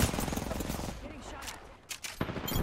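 Gunfire in the video game Apex Legends, fairly quiet bursts of shots under busy game noise, a few sharper cracks near the end, with voices mixed in.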